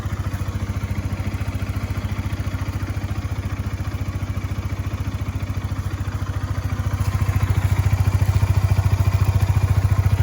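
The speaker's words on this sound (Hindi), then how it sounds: "ये देखो इसकी पहले तो आवाज़ चेंज है सेल्फ की।" A Honda CBR 150R motorcycle with about 62,000 km on it idling after its self-starter, a steady close rhythmic engine thrum that grows slightly louder partway through, no talking.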